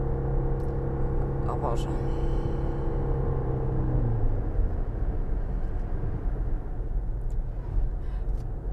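A Toyota Prius PHEV's combustion engine runs with a steady droning hum inside the moving car, a brief exclamation from a woman early on, then road rumble and noise take over.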